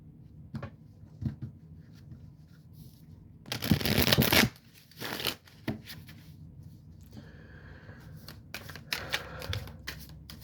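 A deck of cards is shuffled up close, a loud riffling burst lasting about a second followed by lighter shuffles and handling taps, with faint speech around it.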